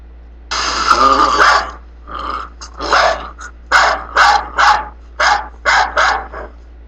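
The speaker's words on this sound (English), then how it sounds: "Here's the dog barking." A dog barks and growls in a series of close, loud outbursts, starting with a long snarling bark and then quicker, choppy barks in an uneven rhythm.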